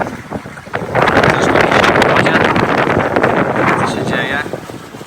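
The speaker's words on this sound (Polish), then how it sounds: "muszę Wam powiedzieć, że wieje jak fix" Strong wind buffets the microphone at the Solina lake marina, a loud rushing gust that rises sharply after the first second and keeps blowing with little letup, with boating sounds around it.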